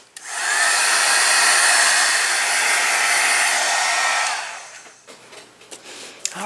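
A hair dryer switched on and held close, blowing a loud, steady rushing whoosh for about four seconds while drying gelato crayon color on a paper page, then shut off, leaving small handling noises.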